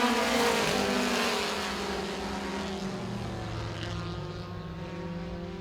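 Race cars on the track at Baer Field Motorsports Park during the 2019 season championships, a dense engine roar from several cars that is loudest at first and then eases slightly as they move away.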